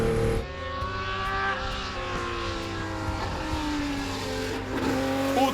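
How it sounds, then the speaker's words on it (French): BMW M1 Procar race car, 450 hp in 1100 kg, driving past with a steady mechanical engine drone and rising, shifting tones, moderately distant and fairly quiet, no voices. "qui roule pour la première fois avec sa superbe BMW M1 Procar, un monstre de 450 chevaux pour 1100 kg"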